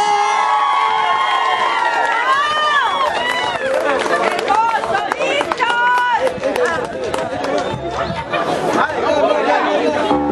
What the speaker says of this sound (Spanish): Y los aplausos para ustedes.